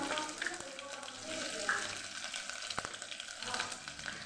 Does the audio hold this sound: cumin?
yes